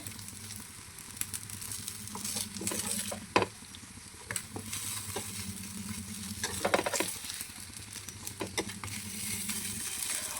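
Pori adde flipped over in a pan keeps frying with a steady, soft sizzle, broken by sharp clicks and scrapes of a utensil against the pan.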